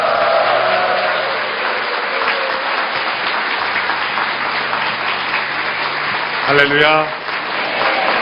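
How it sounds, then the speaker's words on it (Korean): A church congregation applauds and cheers to welcome the pastor at a special dawn prayer service, steady dense clapping filling the hall with a voice calling out briefly near the end. "우리 우레와 같은 함성과 박수로 우리 이재훈 목사님 환영해 주시겠습니다"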